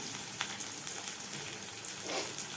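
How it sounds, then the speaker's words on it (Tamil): Onions and garlic sauté in a pan for a dried fish thokku, giving a quiet continuous sizzle with faint crackles and a brief stirring scrape, with no voices. "இந்த வெங்காயம் வந்து நல்லா வதங்கணும்."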